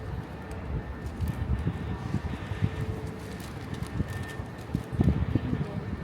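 Steady outdoor wind at a swimming pool in Pattaya, Thailand, rumbles and buffets the microphone throughout, a constant low roar with gusty bursts and no clear talk.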